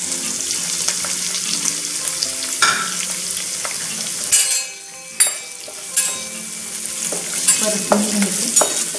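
Chopped green chili and tomato sizzle in a hot pan for baingan bharta, a steady close fry with the scrape and clatter of a spoon stirring through it and a few sharper knocks.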